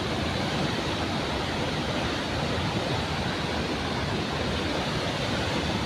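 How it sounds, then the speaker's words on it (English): Water rushing out from under a bridge beside a dense forest, a loud, steady broadband roar that fills the whole stretch with no breaks and no voices. "The water is flowing from under the bridge."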